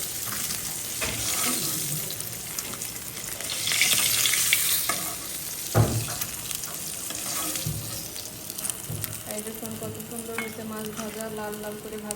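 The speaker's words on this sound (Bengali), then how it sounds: "আবার দিয়ে দেবো মাছ ভাজার জন্য" Fish frying in hot oil in a pan, a steady loud sizzle throughout with brief stirring and scraping sounds, and a few pops near the middle.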